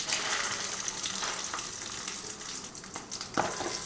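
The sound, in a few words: peanuts frying in organic oil with mustard seeds, cumin, chillies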